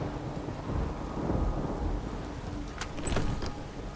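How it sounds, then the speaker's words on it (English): Thunder rolls in two heavy surges over a steady downpour in The Witcher 3, a close, booming storm with rain hissing underneath and no one speaking. "A storm, damn it."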